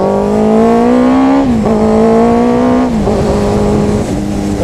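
A motorcycle engine fitted with Two Brothers M2 V.A.L.E exhaust mufflers revs loudly and close, its droning tone climbing and dropping through several throttle blips over four and a half seconds, no talk.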